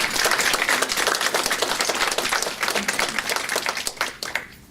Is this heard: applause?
yes